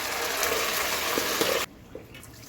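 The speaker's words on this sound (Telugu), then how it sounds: "వేడి నీళ్ళు కుక్కర్లో పోసుకొని" Hot water pours steadily into a pressure cooker in a home kitchen with a bright, continuous splashing gush that stops abruptly partway through, leaving quiet room tone.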